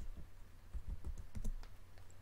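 Soft typing on a computer keyboard while setting up a Minecraft Spigot/Bukkit 1.8.7 server, a short run of quiet, close key clicks in an uneven rhythm.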